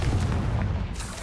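A Confringo blasting spell from Hogwarts Legacy goes off as a deep, booming explosion with a rumbling low end, loud and close, fading slightly toward the end with no talking.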